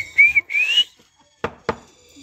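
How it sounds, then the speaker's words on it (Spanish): A person whistles two rising calls to get someone's attention, outdoors where carnitas are being sold, followed by two sharp knocks or taps in the quiet afterward. "Ella entiende del chiflido de."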